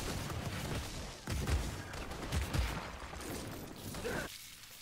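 Gunfire in inFamous Second Son, a busy stretch of rapid shots and bursts with low thumps of impacts, fairly loud and continuous before dropping off near the end.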